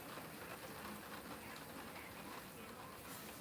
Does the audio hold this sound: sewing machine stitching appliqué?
no